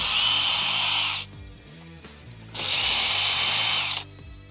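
A power screwdriver whirs loudly close by in two bursts of about a second each while backing screws out of an electrical outlet, with a quiet pause of clicks and handling between.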